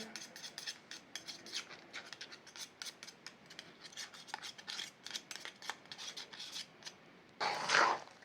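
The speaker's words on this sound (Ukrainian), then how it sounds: "Починаємо вимішувати ложкою вже." Close, continuous scraping and rubbing of a spoon against a bowl as thick bread dough with green onion is stirred, with irregular strokes and a louder rasp near the end.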